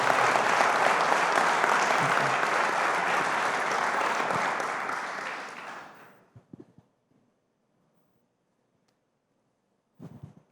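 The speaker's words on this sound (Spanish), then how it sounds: "le pido un aplauso al Señor por su vida" A church congregation gives strong, dense applause for about six seconds, then it dies away quickly into near silence, broken only by a couple of faint bumps.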